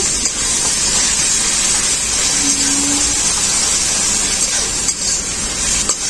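A spice paste with turmeric and ginger sizzles loudly in a pan after a little water goes in, giving a dense continuous hiss and steamy spray that stays steady throughout.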